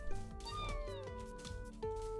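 A cartoon cat meows several times in the Neko Ghost, Jump! game, with bright tuned chirps over a steady game soundtrack and effects, close and clear.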